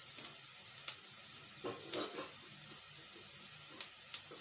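Masala frying in a pan during home cooking, a soft steady sizzle broken by faint scraping stirs and a few brief clinks, heard fairly quietly with no talking.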